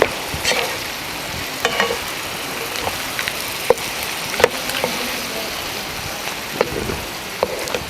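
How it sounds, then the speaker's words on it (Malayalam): Tomatoes with salt sauté over a high flame for tomato chutney, a steady sizzle broken by scattered clinks and scrapes of a spoon stirring in the pan, with no voices. "ആവശ്യത്തിന് ഉപ്പ് ചേർത്ത് കൊടുക്കാം നല്ല ഫ്ലെയിമിലിട്ടിട്ട് സോട്ട് ചെയ്യാം"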